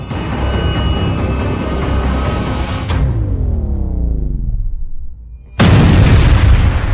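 A blast in Krasnodar: a heavy, rumbling roar with a falling whine and a brief lull, then an abrupt, very loud burst of broadband noise that stays near and overwhelming.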